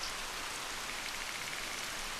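Steady rain falling in the hunting video game theHunter: Call of the Wild, a continuous soft hiss of drops on surfaces, unbroken and without speech.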